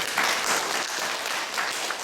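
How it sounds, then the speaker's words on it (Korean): A church congregation claps after a hymn, a short burst of dense, steady applause from a small gathering, lasting about two seconds. "찬양에도 박수 한번 쳐주세요"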